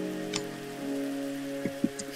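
Rain falling in a video game, a steady soft hiss over a low droning background hum, with a few faint ticks and taps near the end.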